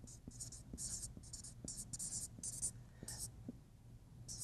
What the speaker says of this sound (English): I'll write it this way.